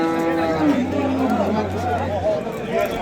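Cattle at a crowded cow market in Namangan give a long, low moo that holds for well over a second, close and loud amid crowd chatter and people talking.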